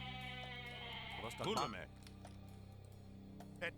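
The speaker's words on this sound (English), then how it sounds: "there's a bunch of goats here that we can send down, which our ally will probably take" Goats bleat in the Age of Mythology strategy game, a short close bleat over a steady tonal game soundscape, followed by a faint clink.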